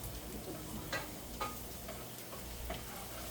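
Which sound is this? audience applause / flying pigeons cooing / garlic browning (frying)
garlic browning (frying)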